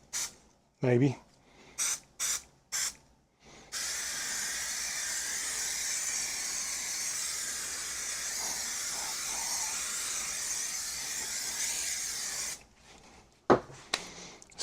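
Adhesive spray hisses steadily from an aerosol can onto a motorcycle seat pan during a seat installation, one continuous spray of about nine seconds, close up, framed by short rustling handling sounds and brief speech.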